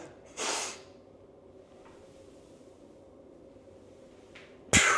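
A sharp nasal sniff is drawn in as a lifter braces for a barbell squat, a short forceful hiss near the start and then a long quiet stretch ending in a loud abrupt clack.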